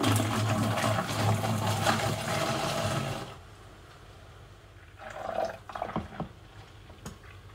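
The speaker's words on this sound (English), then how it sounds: "So I'm just going to pour back in now." Wine made from red grape, plum and apple pours back into a rinsed glass demijohn, a steady gurgling stream for about three seconds, then it stops, leaving faint clinks and handling noises.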